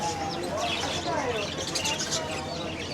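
Birds chirping and tweeting inside a pet bird shop in a Qatar shopping mall, a busy mix of light calls and coos layered over steady indoor background noise.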